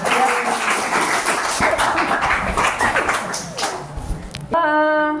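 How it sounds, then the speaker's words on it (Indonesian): A short burst of clapping and cheering from a group, lively and close, ending with a bright electronic jingle. "Tepuk tangan untuk kita."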